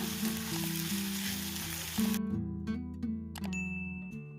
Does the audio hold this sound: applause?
no